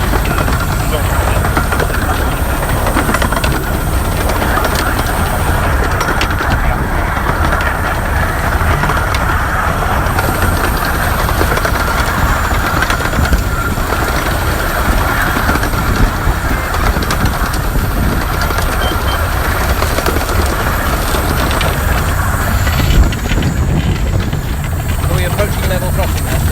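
Aboard the footplate of the Northern Chief steam locomotive, a loud, constant roar of the engine and wheels on track runs throughout, with voices talking under the din.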